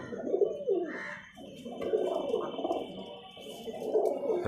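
A male Giribaz pigeon of an old Rajshahi bloodline coos in repeated low, throaty rolling phrases, close and fairly quiet.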